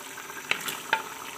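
Tomatoes go into a pan of beef biryani masala as the water cooks off, giving a soft, close sizzle with two brief sharp spatters.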